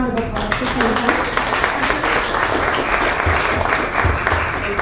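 Audience applause breaks out at a breakfast event honoring the Golden Triangle Toastmasters sponsors, a steady wash of clapping from a room of people with voices mixed in throughout.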